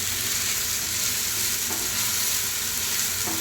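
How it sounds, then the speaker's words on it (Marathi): Bread pattice filling being sautéed in a pan, a continuous close sizzle and fry with faint stirring scrapes. "हे चांगलं परतवून घ्यायचं आपल्याला"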